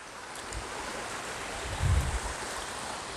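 Steady outdoor river water rushing in West Virginia countryside near Romney, a broad continuous wash with light wind buffeting the microphone and a brief low thump midway, no voices.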